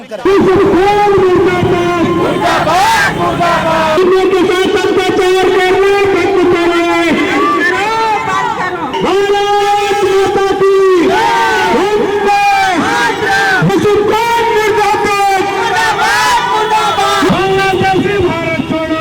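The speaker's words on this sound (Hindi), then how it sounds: "ये जो रामगढ़ की सड़क पर आप भीड़ देख रहे हैं, ये सिर्फ भीड़ नहीं, आक्रोश है" A protest crowd on a street in Ramgarh, rallying against violence in Bangladesh, shouts and chants loudly and without pause. Many close voices rise and fall in unison in a dense roar.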